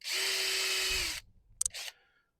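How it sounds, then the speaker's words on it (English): A power drill whirs steadily for about a second, drilling a pilot hole in hardwood, then stops, followed by a couple of short clicks and a brief rattle. "So that's why you got to pre-drill it."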